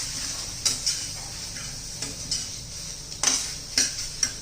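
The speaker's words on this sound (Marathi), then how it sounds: "हे सर्व आपण व्यवस्थित मिक्स करून घेऊया." Banana sheera ingredients stirred in a pan, a soft spoon scraping with a few sharp metallic clinks against the pan at irregular intervals over a steady background hiss.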